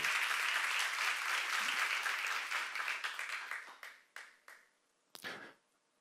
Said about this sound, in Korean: 박수를 하시여